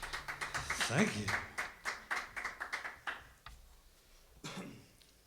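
A small live audience claps after a song at an underground venue, a short burst of hand claps swelling then thinning into scattered separate claps, with talking mixed in.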